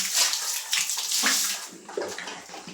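Water runs and splashes steadily, close up, in a countryside home in the Philippines, a continuous hissing flow with brief sloshing bursts and no talk.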